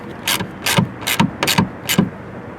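Screws are driven tight into a metal J-clip while a co-pilot unit is installed on a 2024–2025 Ford Mustang. Five sharp ratcheting bursts come close together at a quick, even rhythm, each ending in a dull thud.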